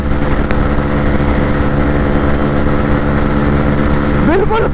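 A Hero Xtreme 125R and a TVS Raider 125 run side by side in a full-throttle drag race. Loud, close engine buzz holds steady, then rises sharply in pitch near the end.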